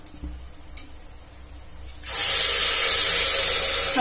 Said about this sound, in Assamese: তাৰপিছত এইখিনিত এতিয়া পানী দি দিম